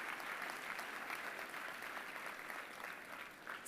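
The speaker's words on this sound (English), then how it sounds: "he walks in to thunderous applause from an audience that is truly inspired" Faint, even applause from a conference audience greeting a speaker entering at a school conclave, many hands clapping steadily from a distance with no speech, ending in a brief louder knock.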